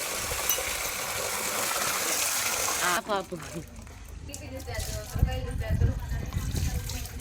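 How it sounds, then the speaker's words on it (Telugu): Water runs from a kitchen tap in a close, splashing stream for a few seconds, then stops. A person then speaks over faint background clatter. "తిప్పు ఒకసారి నీళ్ళు తిప్పు"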